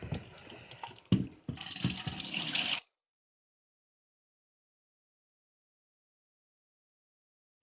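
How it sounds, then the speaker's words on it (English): Dirty water is poured out of the tank of a Hoover Power Scrub Deluxe FH50150 carpet washer in a steady, close, splashing stream lasting a few seconds, with a thud near the start, then it stops into silence. "Okay guys, so I'm pouring out this dirty water."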